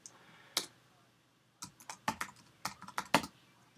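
Typing code on a computer keyboard: a faint pause, then a quick irregular run of close, crisp key clicks in a quiet room.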